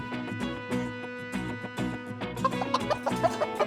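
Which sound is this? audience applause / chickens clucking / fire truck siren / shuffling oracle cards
chickens clucking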